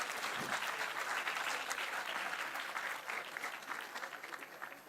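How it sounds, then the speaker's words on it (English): A ceremony audience at an international symposium on law and peace keeps up dense, sustained applause, a steady wash of many hands clapping that fades slightly toward the end. "Friends, can we keep applauding enthusiastically?"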